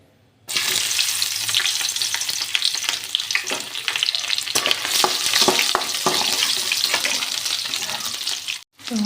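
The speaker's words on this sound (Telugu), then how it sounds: "ఆనియన్స్ని కొంచెం ఫ్రై అవ్వాలి" Onions frying in a pan for egg rice, a loud, dense hiss and crackle that starts abruptly and holds steady with stirring clatter, close up, then cuts out briefly near the end.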